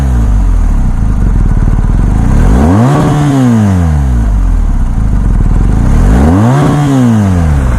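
A 2020 BMW R1250GS motorcycle exhaust blares up close and loud, the engine revving up and dropping back twice in sweeping pulls over a steady idle, with no talking.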